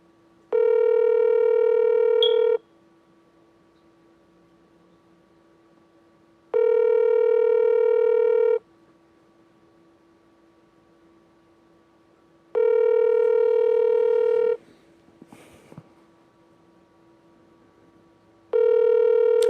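An unanswered phone call rings out toward voicemail: four loud, steady ringback tones of about two seconds each, separated by even pauses, with no one speaking.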